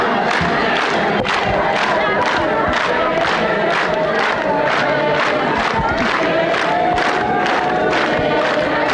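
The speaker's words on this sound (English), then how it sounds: "Chanting crowds receive President Museveni with his host." A large crowd chants rhythmically in steady, loud pulses to welcome President Yoweri Museveni at a border post in Rwanda, continuous for the whole stretch.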